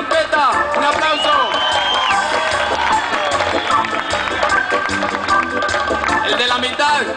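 A live crowd at a band show cheers, whoops and claps for the trumpet player, a dense, lively ovation with voices mixed in throughout.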